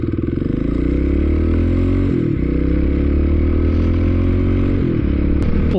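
A Kawasaki KLX 250 dirt bike with a big bore kit pulls away loudly from a light, its pitch rising steadily with two brief dips as it shifts gears, close and continuous.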